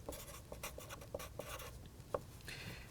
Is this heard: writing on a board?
yes